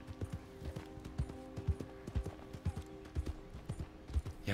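A horse's hoofbeats clip-clop in the video game Red Dead Online, a steady galloping rhythm of distinct hoof strikes over a low background hum, moderately close with no speech.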